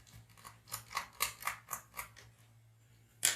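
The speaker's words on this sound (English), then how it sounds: "we're going to unscrew this one right here" Small screw being turned out of a laptop, a series of about eight evenly spaced dry ratcheting clicks followed by a brief pause and a sharper final click, close and quiet.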